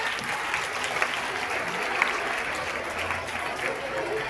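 An audience at a school science day celebration claps together, a dense, even round of applause lasting several seconds with no break.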